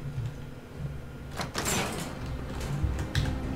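A security door sliding open in the Fallout 4 video game, a mechanical whoosh and clank rising mid-clip followed by further thuds and low mechanical rumbling.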